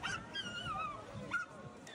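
A frightened dog whimpers and yips in thin, high, wavering cries, faint and brief, with no talking.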